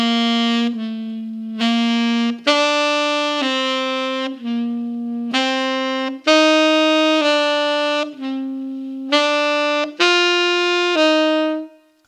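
A saxophone plays a slow half-tongued major scale exercise, with clear sustained notes in groups, each briefly stopped and re-articulated, loud and alone.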